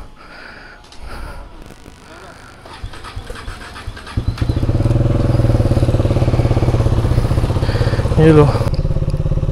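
A motorcycle is started after some handling clicks, then settles into a loud, steady, close idle with a rhythmic thump, and a brief voice speaks near the start.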